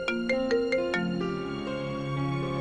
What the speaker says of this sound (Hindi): नायरा का फोन कॉलेज टाइम में